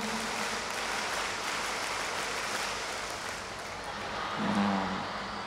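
A large gathering performing a rhythmic scout clap at an Islamic religious lecture, a broad wash of many hands clapping together, sustained and fairly loud, swelling slightly toward the end.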